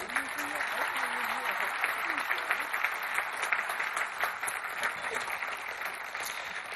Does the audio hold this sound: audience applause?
yes